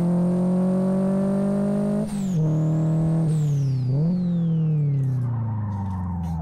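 A turbocharged Golf GTI MK3 engine revs steadily in the Live For Speed racing game, holding a loud drone with sudden pitch drops and climbs at gear changes while drifting.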